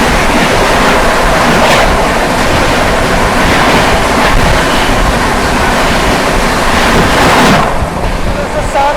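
The New Delhi–Ranchi Rajdhani Express passing close by, a loud continuous roar of wheels and rushing wind that stays heavy for several seconds before easing slightly at the end.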